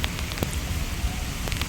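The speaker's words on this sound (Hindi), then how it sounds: "बारिश किस हिसाब की हो रही है" Heavy rain comes down in a steady, dense hiss with scattered sharper drops striking nearby surfaces, continuous and fairly loud, with no voices.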